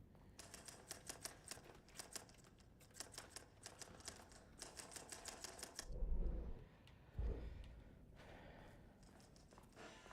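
Rapid typewriter clacking in the video game Alan Wake 2, several bursts of crisp mechanical keystrikes in quick rhythm, followed by two deep thuds and quieter ambient sounds.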